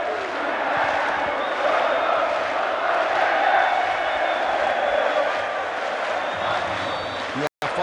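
A football stadium crowd cheers and roars in a continuous, loud, broad wash throughout, with chanting swells.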